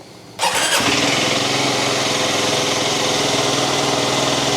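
A 2022 FB Mondial SMX125 125cc motorcycle engine starts with a quick burst, then settles into a loud, steady idle close by.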